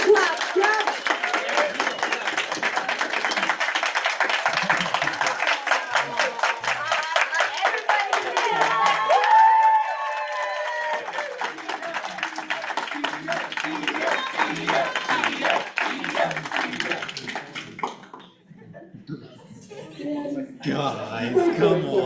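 Clapping from a student senate audience, brisk and rhythmic for most of the stretch, fading briefly near the end before picking up again, with voices mixed in.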